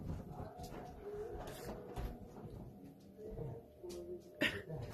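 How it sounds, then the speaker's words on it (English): A female dog barking indoors somewhere in the background, with several short, faint, intermittent barks and whimpers over a quiet room. "what is she barking for? She doesn't usually do that."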